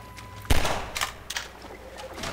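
Half-Life 2 gunfire: a sharp, loud shot hits about half a second in, then a few shorter, quieter bursts follow at uneven intervals, with no voices.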